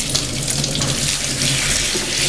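Vegetables rinsed under a running kitchen tap, a close, steady splashing rush of water into a sink that holds constant throughout with no talking.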